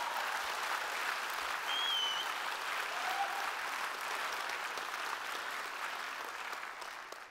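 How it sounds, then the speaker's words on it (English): Steady, sustained applause from a conference audience at Apologetics Canada, a broad even roar of clapping that slowly tapers toward the end. "Could you just give her a huge round of applause?"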